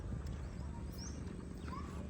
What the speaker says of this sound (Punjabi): ਬਹੁਤ ਨਸਲੀ ਘੋੜੀ